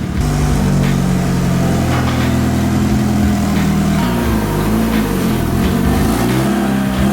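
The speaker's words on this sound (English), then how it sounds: "World's first compound turbo D16 is hitting the dyno." A compound twin-turbo D16 engine in a Honda Civic roars steadily on a dyno, its loud continuous revving shifting pitch midway as the load changes, with no voices over it.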